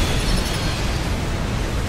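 A flame cannon fires in the StarCraft Universe game, giving a loud, sustained roaring blast that fills the whole moment with dense, rumbling noise and no talk over it.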